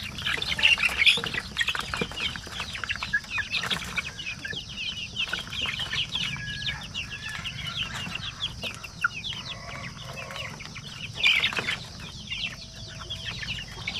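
A group of young chicks about 45 days old on a farm, chirping and peeping almost constantly with a few louder cheeps, heard fairly close with no talking.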